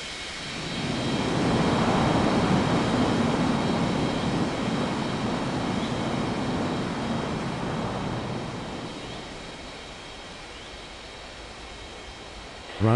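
Airliner jet engines swell into a broad, steady roar during the takeoff roll in an air traffic control video game, then slowly fade toward the end, with no voices.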